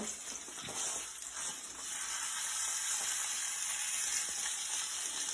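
Salmon pieces fry in a cast iron skillet, giving a continuous bright sizzle that swells slightly partway through, with faint scraping and clinks, close and steady without talk.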